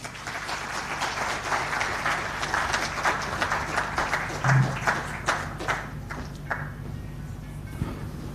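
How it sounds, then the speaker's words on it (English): Conference audience at the MTN Uganda IPO event applauds after a speech, a crowd of clapping hands that holds steady, then thins and fades toward the end. "another round of applause for the chair, MTN Uganda"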